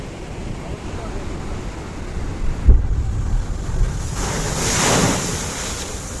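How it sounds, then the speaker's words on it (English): Ocean waves crashing against huge black rocks on the shore at Unawatuna, Sri Lanka, a steady roar of surf with a sharp thump and a swelling wash near the end, mixed with wind buffeting the microphone. "The ocean waves here crash forcefully against huge black rocks"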